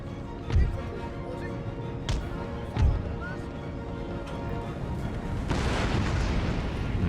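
Cannons fire canister shot in Empire: Total War, three heavy booms spaced a second or two apart over a constant battlefield rumble that thickens toward the end.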